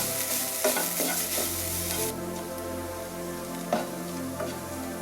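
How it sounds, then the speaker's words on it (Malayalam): Grated coconut and onion sautéing in a pan while being stirred, a steady close sizzle broken by scattered scraping clicks of the spoon, easing slightly after the first two seconds. "ഇനി 1/4 കപ്പ് ചിരകിയ തേങ്ങ അതുകൂടെ ചേർത്ത് ഒന്ന് റോസ്റ്റ് ആവണം."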